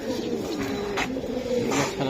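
Giribaz pigeons coo in low, steady murmurs at a close loft, with a continuous hum and brief higher bursts of flapping or rustle.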